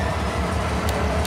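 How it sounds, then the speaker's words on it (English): A freight train passing in a farming simulator game, heard as a steady, close, continuous rumbling roar with no voices. "Take a look at this train"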